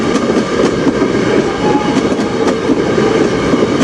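A CN freight train rolls past on the Strathroy Subdivision, a steady loud rumble of rail cars with rhythmic clickety-clack from the wheels running throughout.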